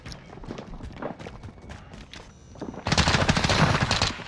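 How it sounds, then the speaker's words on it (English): Gunfire rings out in a video game: rapid automatic bursts and scattered shots, getting louder and denser in the last second and a half, with no talking. "I am under fire."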